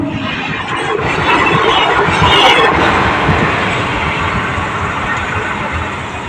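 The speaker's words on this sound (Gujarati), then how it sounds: "તો ટ્રેન આવી ગઈ છે." A train passes a closed railway level crossing in Gujarat, making a loud, close, continuous rumble with a high squealing screech that peaks midway, alongside background voices.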